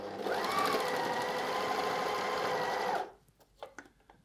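A Juki MO-104DN overlocker sewing machine stitching at a steady high whirring hum for about three seconds, then stopping, followed by a few light clicks and handling taps.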